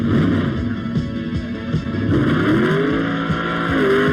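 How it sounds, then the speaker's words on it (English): Bob Glidden's Pro Stock Thunderbird drag car warming up its tires, a loud close engine roar with rising revs and tire noise, continuous and alone. "Bob warms up his tires and gets ready to race"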